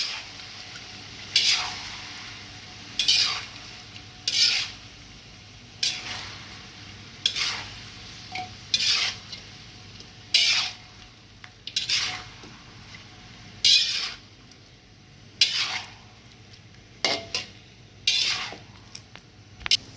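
Chicken with ginger in a pan is stirred with a utensil in a regular series of scraping strokes, a dozen or so spaced a second or two apart, over a soft continuous sizzle, close and clear with no talk.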